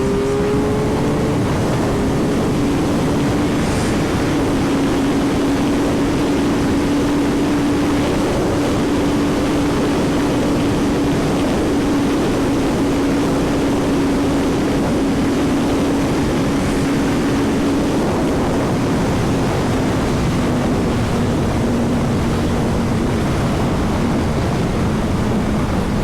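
A Suzuki GSX-R1000 K5/K6 sportbike engine drones loudly and continuously as it rides, a sustained tone that shifts slowly in pitch with no talking over it.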